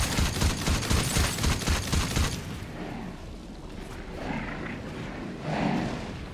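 Rapid automatic gunfire during a video game raid, loud and rhythmic at first, then giving way after a couple of seconds to quieter scattered rumbles and distant bursts.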